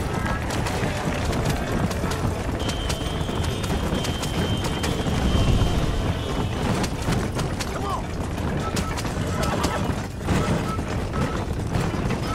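Horse hooves clip-clopping at a run in the video game Red Dead Redemption, a steady galloping rhythm under game sounds and someone talking, with a brief neigh amid the hoofbeats.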